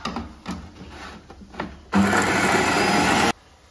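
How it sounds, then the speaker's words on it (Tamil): A mixer grinder blending coriander whirs loudly for just over a second after some soft clinks and rustles, then cuts off abruptly. "மிக்சியில் போட்டு கொஞ்சம் நைஸாக அரைச்சி எடுத்துக்கலாம்"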